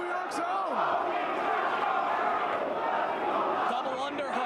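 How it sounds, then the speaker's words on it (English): A wrestling crowd roars steadily for New York's own Low-Key in a match against champion Galloway, a dense, loud wash of cheering and shouting voices that never lets up. "And they're cheering their man"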